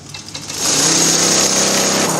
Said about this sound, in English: I've sewn myself to the machine.